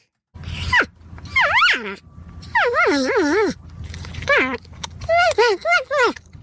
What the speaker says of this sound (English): North American porcupine.